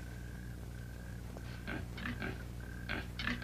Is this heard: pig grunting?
yes